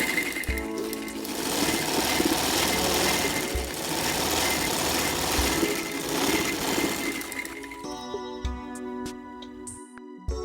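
An electric sewing machine stitches a gusset panel on a shalwar, a close, rapid mechanical chatter that runs steadily for several seconds, then slows and stops, followed by a few light clicks and handling sounds.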